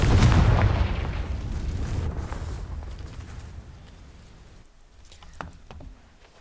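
A fiery Confringo spell explosion in Hogwarts Legacy bursts loud and deep at the start, then rumbles and crackles as it fades over several seconds, with faint small pops near the end.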